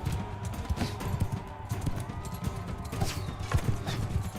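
Horse hooves gallop in a quick, steady rhythm in the video game Mount & Blade II: Bannerlord, under a low rumbling background, fairly close and moderately loud, without any talking.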